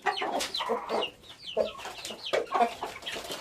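Hens clucking close by in a coop, a run of short throaty clucks and chirps in an uneven rhythm, no talking.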